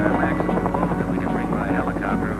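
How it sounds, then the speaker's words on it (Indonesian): A helicopter flies overhead, giving a loud continuous rotor drone with a throbbing, buzzing tone, while someone talks over it. "Beban paling berat yang dapat diangkut helikopter ialah 800 kg."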